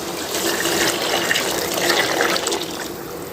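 Water pours steadily from a glass into a pot of rice for chana pulao, a loud continuous splashing gush with no talk over it.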